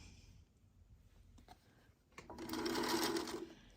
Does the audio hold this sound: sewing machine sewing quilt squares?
yes